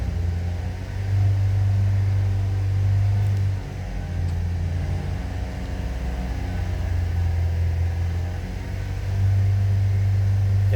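A car engine idles and is held at steady raised revs during gas system box tuning, a continuous low rumbling drone close by with slight rises and dips in pitch and level and no talking.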